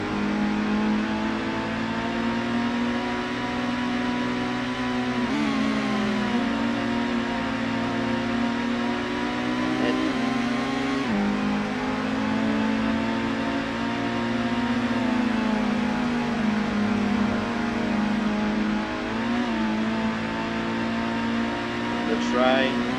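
A Honda NSX race car engine in Gran Turismo arcade mode drones steadily, rising and falling in pitch through gear shifts, while a voice talks over it.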